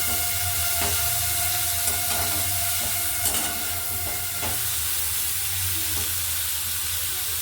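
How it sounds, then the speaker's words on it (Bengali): Cauliflower with chopped tomato frying in a hot pan, a steady loud sizzle and hiss filling the whole stretch, with faint scraping clicks from stirring. "টমেটো কুচি আমি এর মধ্যে দিয়ে দিচ্ছি দিয়ে ভালো করে একটু নেড়ে চেড়ে দিচ্ছি"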